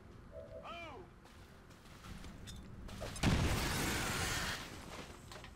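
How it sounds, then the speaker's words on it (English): A grenade goes off in the XCOM 2 tactical game, a sudden loud blast followed by a few seconds of crumbling debris, after quieter game sounds and a short electronic tone. "Use a grenade here."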